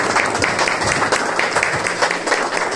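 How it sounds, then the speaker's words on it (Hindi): A church congregation at a Hindi-Urdu sermon claps steadily in a dense, even round of applause throughout. "तो दर तालियां हो जाए"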